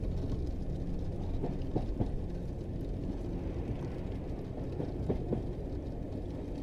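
Hogwarts Express train rolling along the tracks as a story sound effect, a low, steady rumble with faint occasional clacks, soft and continuous with no voices.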